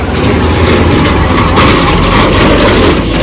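A motorcycle engine on a road, a loud continuous rumbling drone that holds steady and close throughout with no talking.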